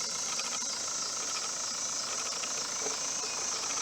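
A 2001 Mitsubishi Fuso FE145 flatbed truck with a 4.9L turbo diesel idles quietly and evenly, giving a steady, smooth hiss-like drone with no knocks or irregular noises.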